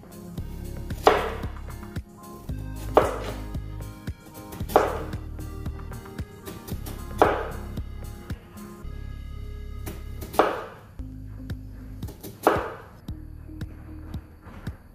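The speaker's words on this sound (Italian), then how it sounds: "Sciacquiamole sotto acqua corrente e affettiamole." Peeled, rinsed potatoes are sliced with a knife on a cutting board, giving sharp thuds at a steady pace of about one every one to two seconds, close and clear with no talking.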